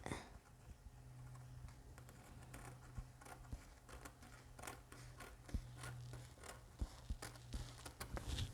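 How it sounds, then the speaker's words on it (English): Scissors snip through fabric repeatedly in a steady rhythm, each crisp cut close and distinct, with a low hum running underneath and no talking. "You have your scissors and you can cut it."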